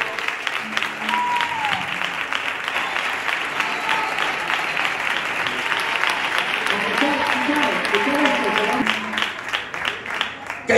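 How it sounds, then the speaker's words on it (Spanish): Guests at a Gitano wedding applaud loudly right after the vows, a sustained dense round of clapping with cheers and voices mixed in, swelling toward the end. "Fuerte aplauso."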